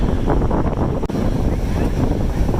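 Strong wind in Texas, by cold water, roars and buffets the microphone steadily throughout, a dense, loud rumble with no voices.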